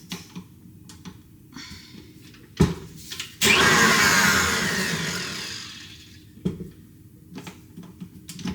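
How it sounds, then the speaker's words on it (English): An electric mixer works stiff sugar cookie dough in a single loud whirring burst of a few seconds that fades as it slows, surrounded by quiet clicks and handling noises. "It's a little bit stiff still, so I'm going to keep mixing it."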